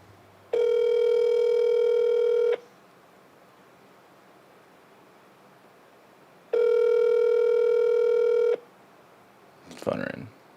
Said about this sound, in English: Let me phone her in this morning.